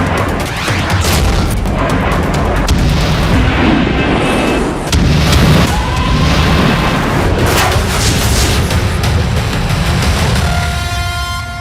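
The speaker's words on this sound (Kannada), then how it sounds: "ಎಲ್ಲೆಂದರಲ್ಲಿ ಬೀಳ್ತಾ ಇವೆ ಮಿಸೈಲ್ ಬಾಂಬ್" Missile and bomb explosions in a Middle East war with airstrikes on Iran: a dense, continuous rumble of heavy booms and blasts that rolls on loudly with no pauses.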